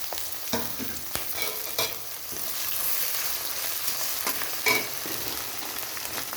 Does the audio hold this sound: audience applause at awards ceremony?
no